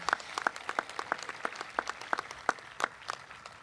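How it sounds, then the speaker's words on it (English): Audience applause at a 2021 high school graduation ceremony, fairly faint and distant, made of scattered individual claps rather than a dense roar, with no talking. "giving them a huge round of applause for their role in getting you into that seat today"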